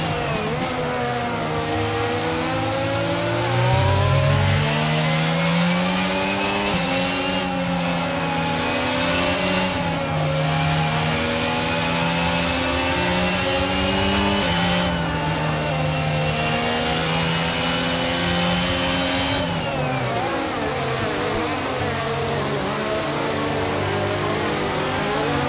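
An F1 race car engine from the F1 22 video game drones loudly and continuously at high revs during a practice start, its pitch climbing and dipping in steps as it holds and shifts, with no talking.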